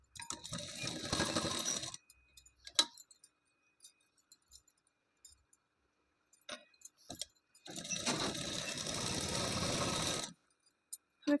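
Sewing machine stitching the folded button placket of an elbow-length-sleeve blouse, running in two long steady bursts close by with quiet handling clicks and pauses between them, no talk.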